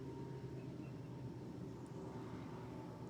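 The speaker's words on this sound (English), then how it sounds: "we've got another plane coming in to the water" A plane comes in to land on a river at a distance, its low engine drone faint and steady beneath a constant wash of ambient noise, with no one talking.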